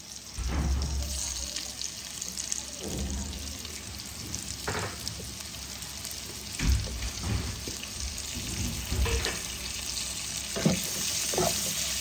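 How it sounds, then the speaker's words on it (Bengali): Chopped tomatoes go into frying onions in a pan, setting off a wet sizzle with uneven bursts and scraping stir sounds, close and moderately loud with no voices. "আমি এবার টমেটো কুচিগুলো দিয়ে দেবো।"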